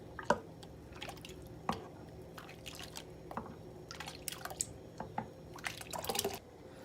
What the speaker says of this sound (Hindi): अब हम कर लेंगे इसको अच्छे से मिक्स अप